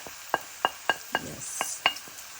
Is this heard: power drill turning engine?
no